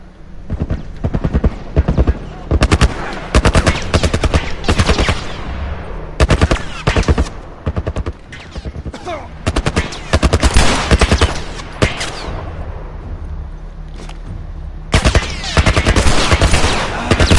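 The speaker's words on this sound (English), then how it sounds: "Some kind of military turret." A military turret machine gun firing in The Last of Us, loud close bursts of rapid shots that start and stop repeatedly, separated by short lulls.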